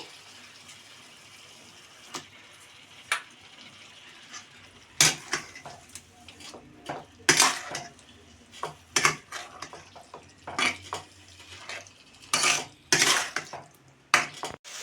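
Chicken being stirred and sautéed in a pot for biryani, a spoon scraping and clanking against metal in irregular bursts over a faint sizzle, loud and close, with no voices.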